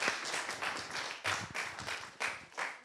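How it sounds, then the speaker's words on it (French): Audience at a round-table talk applauding, a faint, sparse patter of a few hands clapping with uneven bursts, distant and quiet. "On peut l'applaudir parce que vraiment."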